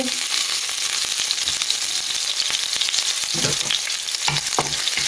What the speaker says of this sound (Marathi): तेल हिंगा गरम जाला न्ही. हितून हांव घालता फायनली चॉप्ड आमची ग्रीन चिली